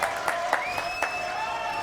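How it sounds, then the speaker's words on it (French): A studio audience applauds on a French TV chat show, a steady patter of clapping with occasional sharper accents and a faint tonal whistle over it, held at an even level throughout. "on peut l'applaudir d'ailleurs"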